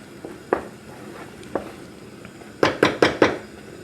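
A spoon knocks against a metal pot while tomato sauce is stirred, a few scattered clinks followed by a quick run of four sharp scrapes and taps near the end.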